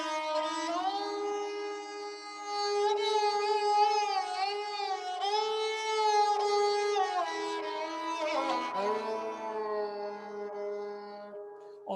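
Bowed sarangi in a calm, peaceful Shanta mood, a single sustained melodic line with gliding slides and ornaments, soft and intimate and heard alone without talking.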